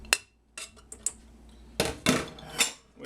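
Softened cream cheese being mixed with mascarpone in a bowl, a handful of sharp utensil clinks and scrapes against the bowl in irregular bursts, close and fairly quiet with pauses between.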